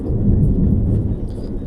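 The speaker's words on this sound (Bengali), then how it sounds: "বাইরে কী পরিমাণে মেঘ ডাকছে" Heavy thunder rumbles low and loud through a rainstorm outside, a continuous deep roll lasting the whole brief moment with faint rain behind it.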